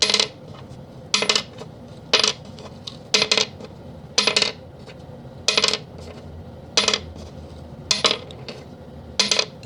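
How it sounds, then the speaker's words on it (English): A vintage brass bridge post from a Les Paul guitar tapped repeatedly, about ten sharp metallic clinks with a short bright ring, evenly spaced, close and alone. "So here's what a vintage bridge post sounds like."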